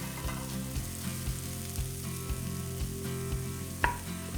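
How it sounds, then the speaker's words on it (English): Red onion and leek sweat in extra virgin Greek olive oil in a warm pot, giving a steady, close sizzle and crackle with faint rhythmic stirring taps throughout. "I just like to sweat the onion and leek a little bit, coat them in the extra virgin Greek olive oil."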